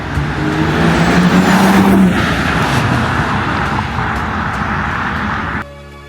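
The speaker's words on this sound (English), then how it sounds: "I just love the noise of the muffler, even the engine." A BMW 235i engine and exhaust roar loudly as it revs and accelerates, a sustained growl that cuts off abruptly near the end.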